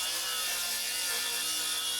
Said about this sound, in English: we're gonna take our skill saw and we're just gonna cut right down that thing